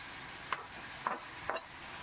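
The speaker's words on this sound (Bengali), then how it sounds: "একটু ভালো করে ফ্রাই করে নিচ্ছি সব সবজির সাথে।" Vegetables for veg Hakka noodles being stir-fried, with three sharp scraping stirs of a spatula over a soft, steady sizzle.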